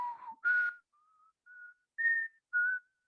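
A single person whistles the X-Files theme tune, five or six clean sustained notes with pauses between them, close and otherwise alone in silence.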